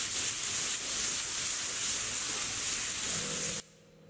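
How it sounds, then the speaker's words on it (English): A spray gun lays base coat paint onto a car panel in a steady, loud, continuous hiss that cuts off abruptly near the end, leaving a faint background. "Now I'm going to spray 4 coats of base coat,"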